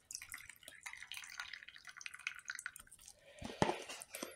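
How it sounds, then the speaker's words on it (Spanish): Water drips and trickles out of soy meat being squeezed by hand, a quiet run of small close splashes with one sharper drop near the end. "Exprimimos bien para que bote toda el agua que sea necesaria"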